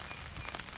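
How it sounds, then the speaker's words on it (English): Rain falls outdoors on a mild morning, a brief, soft, even patter of drops on surfaces. "It's raining."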